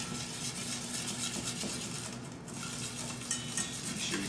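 Metal spoon stirring melted dark chocolate in a pot, a steady scraping swirl with light clinks against the pan, close and continuous with no talk over it.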